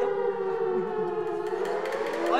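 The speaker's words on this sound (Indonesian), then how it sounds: "Ini suara sirine suruh semua pada masuk." A civil defense style siren calls everyone inside, wailing steadily and loud throughout, its pitch holding then sliding upward near the end.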